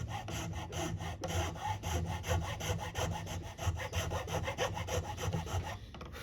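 A file rasps through the third-string slot of a guitar nut on a handmade guitar, a rapid, regular back-and-forth scraping that is close and loud throughout, with no voices.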